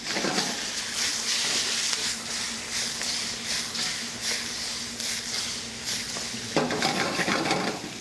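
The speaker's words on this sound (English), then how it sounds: "It is a wok, so we're going to go ahead and stir fry." Shrimp stir-frying in a wok, with steady clatter of a utensil scraping and tossing against the metal over a continuous sizzle, close and busy throughout, with a brief louder burst of hissing near the end.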